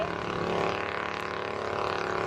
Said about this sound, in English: those tractors are getting louder every year